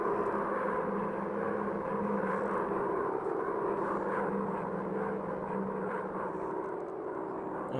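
Steady droning engine of a WW1 fighter plane in a VR combat flight game, a continuous mid-level hum that holds evenly throughout with no talk.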